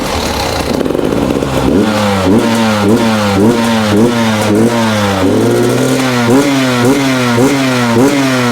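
A motocross motorcycle engine revs hard and close, its pitch climbing and dropping in repeated rapid throttle blips over a steady idle rumble, with no voices.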